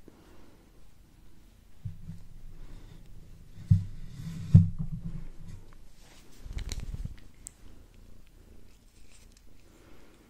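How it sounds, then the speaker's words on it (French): A cat purrs softly while being scratched, a low rumbling rhythm rising and fading in close, quiet bursts with faint handling noises and a couple of light bumps. "je vais la gratter, vous parler et il y aura ces ronronnements en fond"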